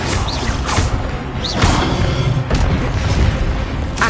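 The Expelliarmus disarming spell in the video game Hogwarts Legacy goes off as loud, booming bursts with whooshing sweeps, blending into dense, continuous combat audio with no one talking.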